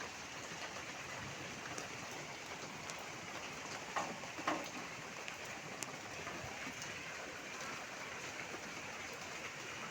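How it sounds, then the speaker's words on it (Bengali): Light rain falls in a village, a faint, steady hiss of drops on surfaces continuing evenly throughout with a couple of soft knocks partway through. "আজ গ্রামের বৃষ্টি ভিডিও করলাম।"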